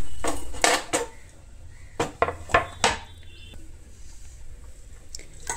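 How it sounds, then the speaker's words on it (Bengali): Cut potatoes being washed in water in a bowl, with scattered knocks, clatters and splashy rubbing against the bowl, in bursts with quieter stretches between. "খুব ভালো করে জল দিয়ে আমাকে ধুয়ে নিতে হবে, যতক্ষণ না সাদা জলটা বেরোচ্ছে"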